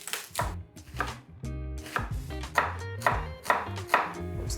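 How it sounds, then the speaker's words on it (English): A knife chops an onion on a cutting board for sofrito, a quick series of crisp, close taps in an uneven rhythm. "first things first, we chop an onion"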